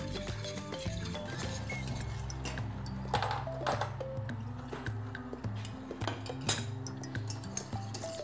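A spoon rapidly stirring a honey and gelatin dessert mixture in a bowl, giving quiet repeated clinks and scrapes at close range over faint background music.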